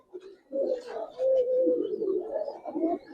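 Close, soft cooing from a ring-eyed Giribaz pigeon, a brief note followed by a longer warbling coo that rolls on for a couple of seconds.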